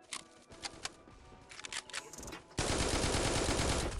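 Scattered gunshots in the Forward Assault shooter game, first as a few sharp separate cracks, then a loud sustained burst of automatic fire that runs to the end.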